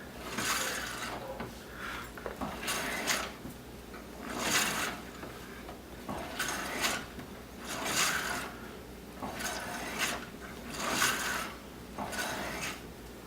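A power steering rack pushed back and forth by hand, giving repeated rubbing, sloshing swishes of fluid inside, about seven strokes in a steady rhythm, close and moderately loud with no talking.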